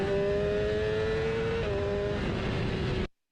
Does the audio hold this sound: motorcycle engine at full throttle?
yes